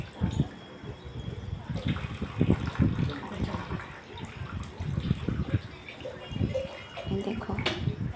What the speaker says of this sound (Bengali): এখন ওর ঠাম্মি ওকে স্নান করাচ্ছে।